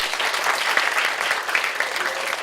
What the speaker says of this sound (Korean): 여하튼 일단 우리 박수를 한번 치면 돼요